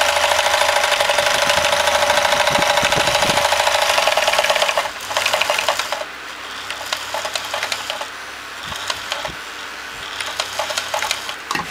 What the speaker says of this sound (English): slowly to begin with, and we'll gradually get faster, although it will jump around on the bench